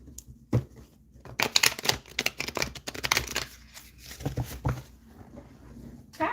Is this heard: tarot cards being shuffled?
yes